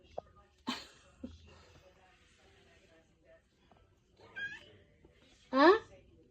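A house cat gives a couple of short meows amid quiet indoor sounds, with a louder rising cry near the end; a person talks softly to it in between.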